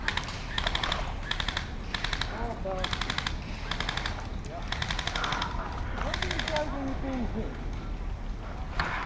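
Airsoft guns fire in rapid bursts during an outdoor skirmish at Billericay, with several near, sharp volleys clattering over and over while players talk.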